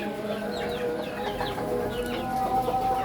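Farm chickens cluck and call repeatedly over a steady background murmur, several birds at moderate distance, with a faint longer whistling tone near the end.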